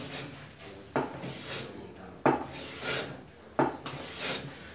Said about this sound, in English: So you can hear I've got tear out here, eh? You can hear it happening.